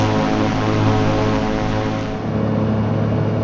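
A light propeller airplane drones steadily up close, its engine hum and prop buzz constant and loud while descending between cloud layers above a lake in Patagonian mountains.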